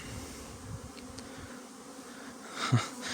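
A steady, soft buzzing of honeybees flying nearby after days of rain, continuous throughout with a slightly louder swell near the end.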